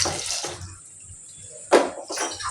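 Water poured into a cooking pot of lentils for a Karnataka-style mosoppu saaru, heard as a soft running splash near the start and a louder burst around the middle, close by and fairly quiet, with no talking.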